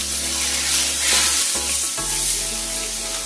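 A large amount of butter sizzles and crackles steadily in a hot pan, a loud, continuous close hiss with a low hum beneath it and no voices.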